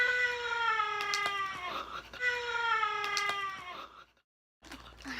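A person's voice imitates Chewbacca from Star Wars, giving two long warbling, groaning roars that slide downward, then a short pause and a faint start of another, close and fairly loud.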